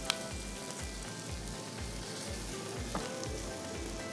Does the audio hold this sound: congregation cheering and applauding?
no